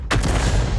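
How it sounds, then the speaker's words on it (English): A single loud tank cannon shot in World of Tanks, an Object 261 landing a penetrating hit on a Gorilla, with a sharp blast followed by a rumbling boom and tail lasting under a second. "And that was a direct hit. In fact, it was a penetrating shot, and it was a high roll."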